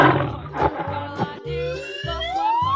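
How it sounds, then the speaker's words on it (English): A tiger from a 3D animal slide video game gives short, growling roars, followed by a rising siren-like tone over a pulsing game music beat. "Tiger."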